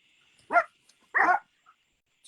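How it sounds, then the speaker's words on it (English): Two short, sharp dog barks ring out nearby, separated by a pause, against an otherwise quiet room with a faint steady hum. "Sorry about my dogs."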